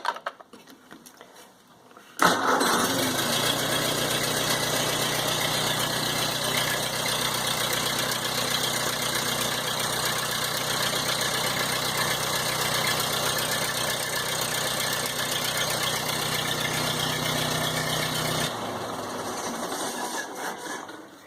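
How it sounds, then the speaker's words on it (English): A 1952 Ford 8N tractor engine cranks and catches on a fresh new battery, then settles into a steady, even idle close by before the sound drops near the end; no voices. "What a difference starting the tractor with a brand new battery compared to the old battery."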